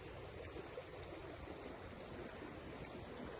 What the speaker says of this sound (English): Do you hear the sound of water?